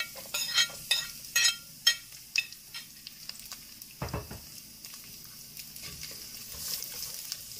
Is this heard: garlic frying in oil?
yes